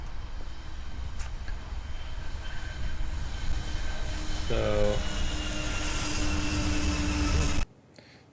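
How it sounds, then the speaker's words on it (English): A train rolls past, a loud sustained rumble of wheels on rails with a brief squeal partway through, heard under a voice that speaks a single word. "that was the sound of a train going by"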